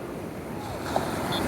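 Strong surf washes onto a clean beach shore, a continuous broad rush of breaking waves with wind noise on the microphone, steady and moderately loud for a brief moment.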